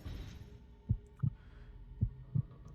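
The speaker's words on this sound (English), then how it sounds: "We got a heartbeat" Heartbeat in the game Assassin's Creed 2, two pairs of deep thumping lub-dub beats, close and muffled, over a faint low hum.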